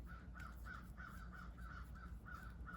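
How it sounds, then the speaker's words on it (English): Crows caw repeatedly in a steady run of short calls, somewhat distant, over a low background hum. "You can hear all the crows outside."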